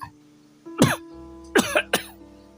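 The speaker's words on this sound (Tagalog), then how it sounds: "Biglang isang malakas na ubo ang narinig mula sa bata." A child gives three loud, harsh coughs close by, one then a quick pair, over a faint steady beeping tone from a heart monitor.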